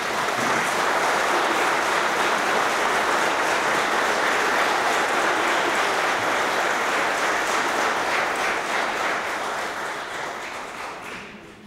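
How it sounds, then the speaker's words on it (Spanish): Sustained, even applause from an audience at a swearing-in ceremony for new lawyers at the Supreme Court, many hands clapping steadily for over ten seconds before slowly thinning out at the end. "El público le puede brindar un merecido aplauso."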